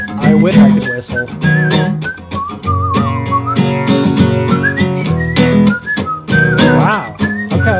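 Someone whistles a lively melody over a musical backing track, bright warbling notes weaving through the accompaniment.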